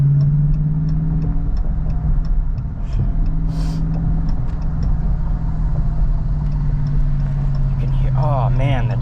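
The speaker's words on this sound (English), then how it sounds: "Oh man, that's just such a gorgeous engine. Beautiful sound." A 2023 Dodge Challenger R/T V8 engine idles with a deep, even rumble and a faint rhythmic ticking, and someone talks briefly over it toward the end.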